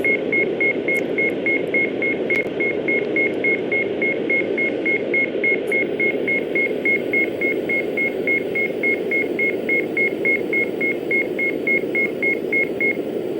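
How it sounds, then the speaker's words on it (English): The overspeed alarm in a Cessna Citation C-560XL cockpit in the X-Plane 12 flight simulator, a rapid, evenly pulsed high beeping repeating steadily over a loud broadband engine and wind roar. "Overspeed alarm."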